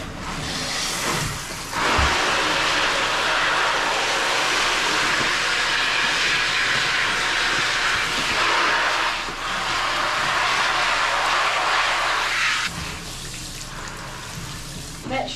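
A plastic planting tray is rinsed under running water, a loud, rushing, broadband gush that starts after a couple of seconds, runs steadily for about eleven seconds, then cuts off.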